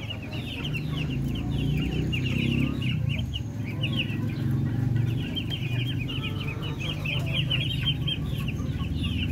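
Darag native chickens and their chicks on a farm, with steady nearby clucking from the hens and a constant chorus of high, thin peeping from the chicks, with no talk over it.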